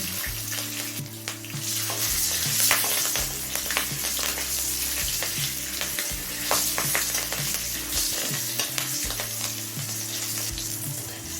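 A dried red chilli, half a spoon of black cumin and three slit green chillies sizzle in hot oil over a low flame, a steady crackling hiss that runs the whole time beneath a bed of background music.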